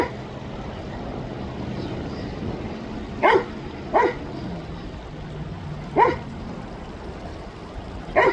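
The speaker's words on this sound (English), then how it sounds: "That's a bald eagle, pup. You don't need to bark at him." A dog gives four short, sharp barks at a bald eagle outdoors, spaced a second or two apart over a quiet background.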